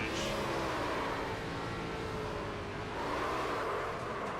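A stock car engine from a Cup Series sim racing game at Atlanta Motor Speedway drones steadily in a continuous, fairly quiet roar, with the pitch shifting slightly as the car is throttled up.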